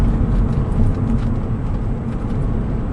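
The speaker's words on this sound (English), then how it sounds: "I've got Dansk exhaust on this," A Porsche 911 (996.2 Tiptronic) engine and Dansk aftermarket exhaust drone steadily from inside the cabin, a deep continuous rumble with road noise, no talking.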